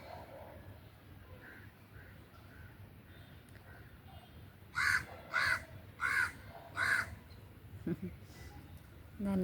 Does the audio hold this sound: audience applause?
no